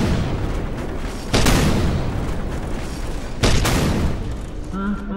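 A nuke detonating in the Garry's Mod game, two huge roaring blasts a couple of seconds apart, each a sudden loud broadband boom fading into a long rumbling roar, with a voice speaking faintly near the end.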